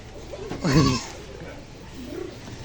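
A goat at a home with livestock lets out one loud, wavering bleat close by, followed by a fainter, shorter bleat after a pause.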